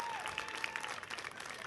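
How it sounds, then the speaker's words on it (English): Spectators at a youth sports tournament applaud the visiting North Carolina champions, a soft, distant wash of clapping from a small outdoor crowd with a faint tone running underneath. "let's give the champions from the state of North Carolina another round of applause"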